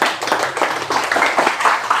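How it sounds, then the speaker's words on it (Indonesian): Clapping from a gathered crowd at a mosque pengajian and halal bi halal gathering, honoring the village head; dense, steady hand claps fill two seconds at close range. "Kita beri tepuk tangan dulu buat Pak Lurah,"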